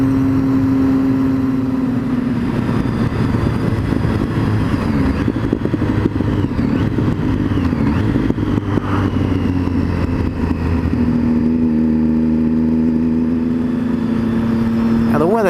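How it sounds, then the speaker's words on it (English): Continuous Triumph Street Triple engine drone while riding, with rising and falling revs and wind rumble, steady and close throughout. "going for a ride on your motorbike"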